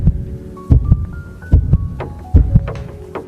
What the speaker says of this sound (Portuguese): Meu coração batia acelerado